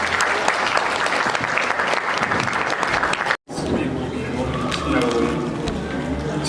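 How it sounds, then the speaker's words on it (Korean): Audience applause in a hall at a Korean unification council regional event in Incheon, dense and sustained clapping that breaks off briefly, then resumes at a similar level with a steady crowd murmur. "오실 때에 뜨거운 박수 부탁드립니다"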